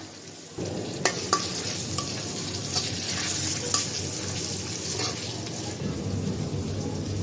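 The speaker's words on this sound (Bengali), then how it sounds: "পেঁয়াজটা হালকা ভেজে নিয়েছি মশলা দিয়ে দিব রসুন বাটা আদা বাটা" Onion frying in a pan with garlic and ginger paste, a steady close sizzle that swells after a quieter start, with a few sharp clicks from stirring and a faint voice in the background.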